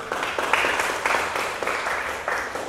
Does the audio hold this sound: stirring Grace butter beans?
no